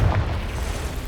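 A magical fire-blast spell explodes in a fantasy action video game, a single loud, deep booming burst with a rumbling tail.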